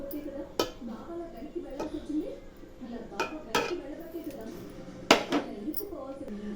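Cooked rice is scooped and spread over chicken in a pot for biryani, giving scattered metallic spoon clinks and soft scraping against the vessel, close by, while a voice talks quietly in the background.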